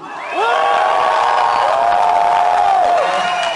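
A convention hall audience at an anime dubbing panel erupts in loud cheering, whistling and shouting to vote for Son Goku, a sustained crowd roar that swells up quickly after a brief quiet start and holds steady to the end.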